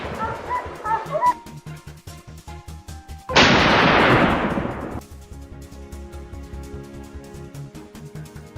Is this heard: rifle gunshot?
yes